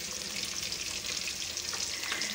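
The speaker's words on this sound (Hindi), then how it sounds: "नमाज पढ़ने के बाद फिर मैं फ़िश को जो है तो फ्राई कर रही हूँ अभी" Fish coated in masala frying in a pan at home, a steady bright hiss of sizzling oil with no talk, continuous and even throughout.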